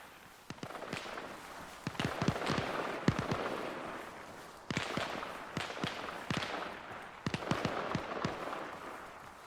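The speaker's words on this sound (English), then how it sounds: "as soon as I spawn, I hear gunfire." Rapid bursts of gunfire in the video game Arma Reforger on PS5 Pro crack in clusters, some near and sharp, others farther off, forming an irregular battle din with no talking.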